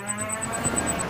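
A cartoon robotic bull gives a short, low mooing call lasting about a second, with a steady electronic whine layered above it and no talk.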